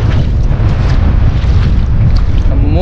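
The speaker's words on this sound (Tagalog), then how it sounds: "Ang lakas ng hangin, oh." Strong wind blows across open water at sea from a fishing boat, a loud, steady broadband roar buffeting the microphone throughout, with no voices.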